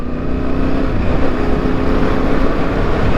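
A Yamaha Ténéré 2025 motorcycle grinding up a hill in third gear, its engine a steady, loud, continuous drone that holds near and even throughout, with no voices.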